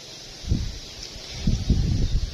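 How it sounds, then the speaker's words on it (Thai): Cold, dry winter wind gusting outdoors, heard as low rumbling buffets against the microphone that come and go, with a light rustle of leaves, fairly close and with no talking. "เสียงลม เข้าสู่ฤดูหนาว ลมหนาว"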